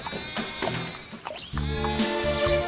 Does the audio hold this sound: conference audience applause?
no